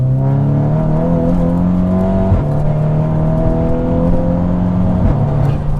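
Tuned VW Scirocco R with an RTech Stage 2 engine pulls hard in third gear from about 50 mph, a loud, steady, rising engine drone from inside the car with brief dips, and no talk.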